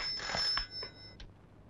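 A bright electronic ring chirps twice in quick succession, close and clear, then fades into quiet.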